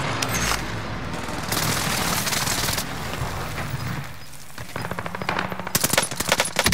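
Video game gunfire rattles in sustained automatic bursts, loud and close, with brief pauses between volleys and sharp rapid shots returning near the end.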